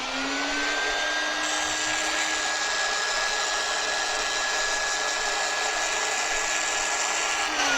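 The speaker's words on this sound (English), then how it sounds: "I'm going to go in here to drill on the back side" An electric drill grinding into the back of a fused glass piece under water, a steady, loud, high whine that holds evenly from start to finish with no voices.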